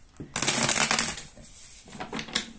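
A tarot card deck is shuffled by hand in a few quick riffling bursts, close and crisp, with a brief spoken remark.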